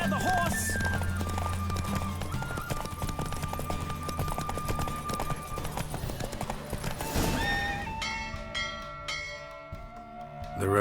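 Galloping hooves and loud neighs from a racing horse in The Witcher 3 game, the pounding rhythm steady and near, with a voice briefly heard and bell-like chimes toward the end.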